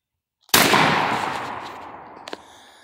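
A single loud pump-action shotgun blast fired outdoors at plates cracks sharply and echoes away over a couple of seconds, followed by a brief fainter report.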